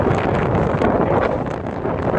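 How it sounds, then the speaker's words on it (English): Strong gusty wind sweeps across an open reservoir at dawn and rumbles steadily into the microphone, close and loud with no pauses. "Like I said, it's windy."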